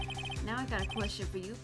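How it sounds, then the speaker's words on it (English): A video game phone plays a modern electronic ringtone as a repeating, chirpy melodic pattern, moderately loud beneath a voice talking over it throughout. "I heard a phone ring just now, one of those newfangled ringtones."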